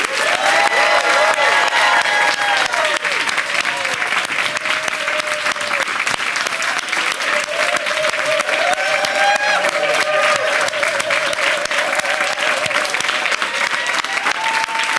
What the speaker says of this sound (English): make sure that Marsha and Sylvia can hear us singing their praises and giving them the biggest applause they ever got